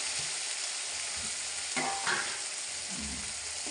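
Tomatoes with bay leaf, chili, cardamom, cinnamon, cloves and pepper sauté in a pan for chicken curry, giving a continuous close sizzle with soft scraping stirs and a few low clunks.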